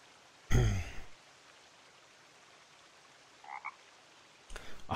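Frog croaking in the survival game The Forest, one loud close croak early on, then a faint distant call and another croak near the end, over a steady soft rain-like ambient hiss with no talking.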